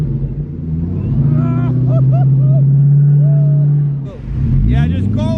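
A Ford GT supercar stuck in the ground revs hard in a sustained, steady drone that dips briefly before climbing again, with voices nearby.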